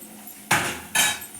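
A spoon scrapes and clanks against a pan while stirring curry, two loud metallic strokes separated by a brief pause.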